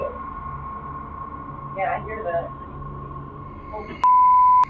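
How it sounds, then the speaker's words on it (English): A REM pod paranormal detector in a jail cell emits one steady electronic beep lasting about half a second near the end, following a hushed stretch with faint voices and a low background hum. "A REM pod goes off in the jail cell."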